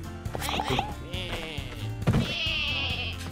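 Sheep bleat repeatedly in the co-op video game Lumberhill, with two longer drawn-out bleats overlapping game sounds and light background noise.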